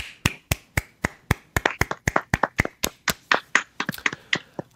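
A small group claps in a brief, loose round of applause after a sports achievement is announced on a talk show, about twenty sharp claps with no talk.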